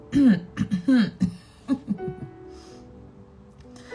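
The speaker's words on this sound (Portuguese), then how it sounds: "Tossindo, acordei tossindo hoje, fazendo assim." A series of close, harsh coughs in quick bursts, tapering off into quieter throat sounds before a brief pause.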